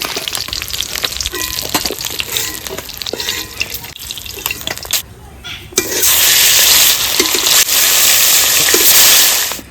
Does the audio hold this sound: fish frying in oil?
yes